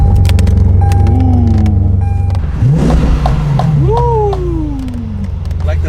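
Lamborghini Aventador with an aftermarket carbon exhaust, engine rumbling up close with rising and falling revs and a couple of sharp rev sweeps, while people talk over it.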